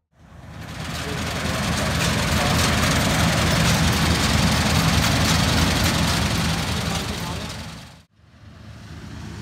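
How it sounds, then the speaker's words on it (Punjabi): A combine harvester arriving for the wheat harvest, a loud heavy engine roar that builds in, holds steady close by, then cuts off abruptly near the end before resuming faintly. "ਆ ਰਹੀ ਹੈ ਕੰਬਾਈਨ"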